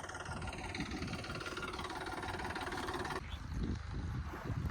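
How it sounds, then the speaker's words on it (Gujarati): A Mahindra Yuvo tractor engine chugs steadily at a moderate distance while ploughing, its low mechanical drone continuing throughout and shifting tone slightly partway through. "ભાઈ ટ્રેક્ટરથી ખેડકામ કરી રહ્યો છે"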